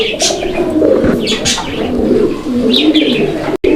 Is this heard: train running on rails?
no